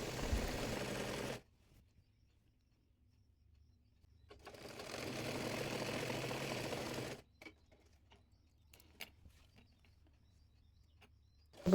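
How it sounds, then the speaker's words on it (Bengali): Sewing machine stitching the side seam of a round petticoat, running in two steady bursts separated by silence, with faint clicks and handling noises in the quiet gaps. "সাইডে সেলাই করে নেব এবার"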